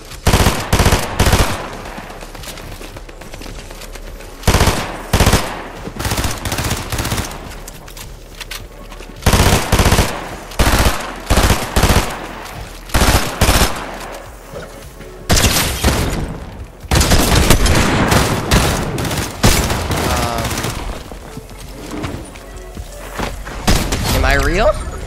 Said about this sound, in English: this SMG bleeds.